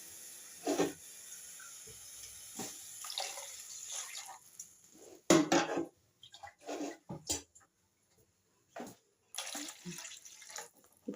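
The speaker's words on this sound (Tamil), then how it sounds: "இப்போ 3 டம்ளர் தண்ணி ஊற்றிட்டோம்." Water poured from a tumbler into a cooking pot for rava kichadi, three tumblerfuls, heard as several short splashing bursts with pauses between them in a quiet kitchen.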